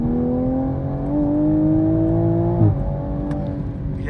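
A Toyota Supra in automatic mode accelerating hard, its engine drone climbing steadily in pitch for over two seconds before a brief shift dip, then pulling on, loud and close from inside the car.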